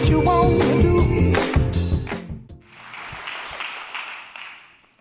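Upbeat music plays, then cuts off as a conference audience at a Chicago startup demo day breaks into a few seconds of steady applause that gradually fades out.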